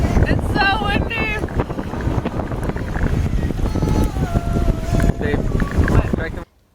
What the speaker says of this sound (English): Very windy, huh? It's so windy.